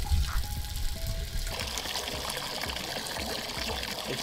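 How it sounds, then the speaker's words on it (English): Water trickles and dribbles steadily from a 1925 sprayer nozzle on an immersion-cooled gaming PC build, a continuous close hiss of running liquid with no speech. "It's just dripping."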